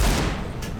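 A MAC-10 submachine gun firing in CS:GO during a LAN match, a short loud burst of gunfire that fills the whole brief moment.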